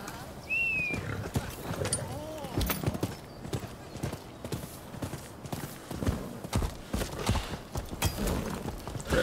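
Horse hooves clip-clopping and a neigh in the Rise of the Ronin video game, the hoofbeats steady and fairly close amid game effects, with a brief whinny near the start and someone talking over it.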